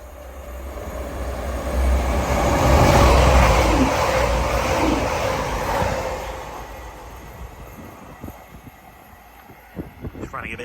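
Non-stopping train at Belper station roars through close by, building from a rising rumble to a loud rushing peak with wind noise, then fading away and leaving scattered light knocks and station ambience.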